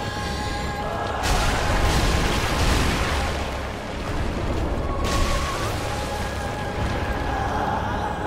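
Explosion attack in Dark Souls III, a loud rumbling blast that surges twice and sustains as a heavy roaring wash over a low boom.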